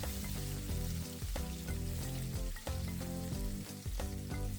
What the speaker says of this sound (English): Once hot, add the garlic and chili. Saute it for a few minutes.